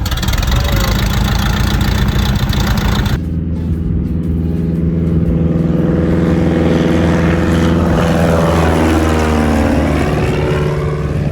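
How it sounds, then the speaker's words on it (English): Loud, steady droning of a propeller airplane engine heard from inside the cabin in Alaska, with a deep pulsing hum and a sudden shift in tone partway through. "I got to go on a prop plane"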